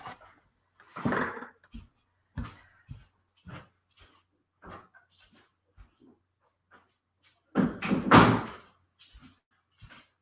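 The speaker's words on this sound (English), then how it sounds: "Let me close some doors." Indoor doors being shut, heard as a scattering of soft knocks and clicks. Two louder bangs stand out, one near the start and one near the end, with quiet gaps between them.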